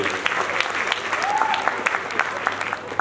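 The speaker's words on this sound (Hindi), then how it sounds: "जोरदार तालियां बजाएं इनके लिए" Dense, sustained audience applause at a performance during the Rajasthan Film Festival 2023 at Amity University, Jaipur: many hands clapping steadily and fairly close, with a brief whistle-like tone rising partway through.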